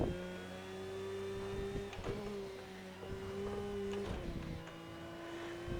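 A Porsche 911 GT3 R racing engine howls steadily at speed on the Nordschleife, a sustained high-revving drone with pitch that shifts at gear changes around the midpoint, loud and continuous with no talking.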